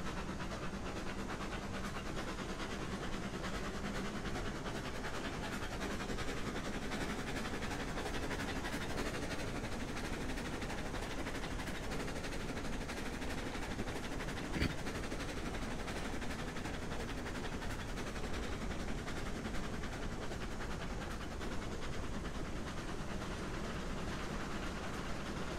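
Train running in the video game Railroads Online, hardcore mode on the way to an iron mine, a steady loud rumble with continuous rolling rail noise and no pauses throughout.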